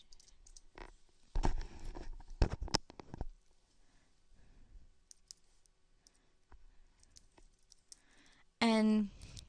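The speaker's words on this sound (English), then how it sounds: "when I type in my Georgia Southern email address" Sparse, light clicks of fingers typing an email address on a computer keyboard in a quiet room, with faint murmur in places and a short steady tone near the end.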